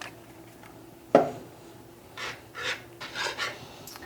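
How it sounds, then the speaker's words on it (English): A whisk stirs vanilla into pumpkin pie cheesecake filling with faint, rhythmic scraping strokes against the bowl, starting after a single soft knock. "We're going to whisk that in real quick."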